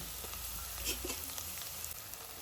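Chopped garlic, julienned ginger and curry leaves sizzling in hot oil for a fish curry: a continuous, fairly quiet hiss with faint crackles, heard on its own.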